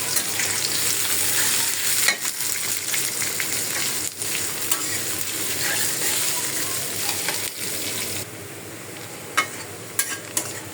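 Sliced onions fry in hot oil in a pan with a steady crackling sizzle, broken up by repeated scraping stirs of a utensil against the metal, close and clear with no talking.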